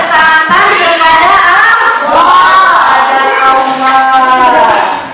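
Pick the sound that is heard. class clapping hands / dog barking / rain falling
class clapping hands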